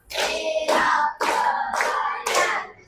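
A room of fifth-grade pupils claps together in a steady rhythm, five loud group claps in a row while children's voices ring out between them.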